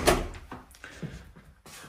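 The front door of a terraced house in Castletown, Penrith opens and moves with a sharp initial knock followed by several softer thumps and creaks, close by and fairly loud in a quiet entrance vestibule.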